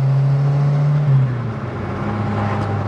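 A restored Renault Super 5 GT Turbo with a 106-horsepower turbocharged engine runs with a steady, droning hum, loud and close, with the pitch dropping slightly partway through.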